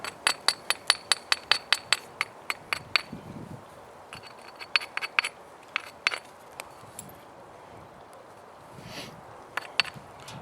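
Stone knapping with a hammerstone during primary reduction: a quick run of about a dozen sharp, glassy clicks, then scattered louder strikes and light scraping, close up with no talking.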